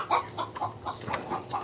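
Several chickens cluck in short repeated bursts, moderately close and fairly quiet, with no talking, heard in a garage during timing belt and seal work on a first-generation Honda CR-V.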